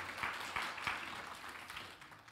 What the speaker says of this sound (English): Clap for Tyler here.